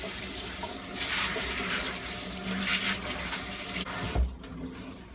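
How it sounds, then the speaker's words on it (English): Tap water runs steadily over a plastic aquarium hang-on-back filter part being rinsed in a sink, a continuous close splashing hiss that cuts off abruptly near the end. "Give it a quick rinse and get any powder out."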